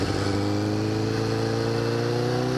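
A car engine roars steadily at high revs, a loud continuous drone with layered harmonics and no letup.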